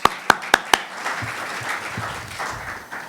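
An audience at a PARC Forum talk on climate change and California claps in a few sharp, loud opening strikes, then settles into steady, sustained applause filling the room.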